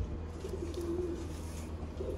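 A teddy pigeon gives a soft, low coo, a single drawn-out rolling call over steady low background rumble.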